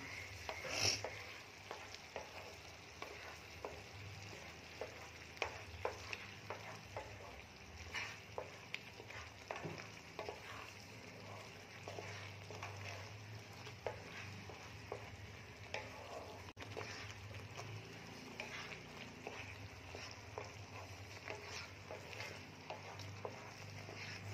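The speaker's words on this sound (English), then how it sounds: "Now we have to cook this tomato puree for at least 3-4 minutes." Tomato puree cooks in a pan for butter paneer masala, giving a faint, steady sizzle with occasional soft stirring ticks throughout, heard without talk.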